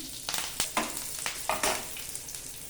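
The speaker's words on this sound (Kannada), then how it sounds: "ಸಾಸಿವೆ ಸಿಡಿದಿದೆ ಹಸಿಮೆಣಸಿನ್ಕಾಯಿ ಹಾಕ್ಕೊಳ್ಳೋಣ" Mustard seeds and green chilies fry in hot oil for a village-style kosambari tempering, giving a steady close sizzle broken by a run of sharp crackles and pops.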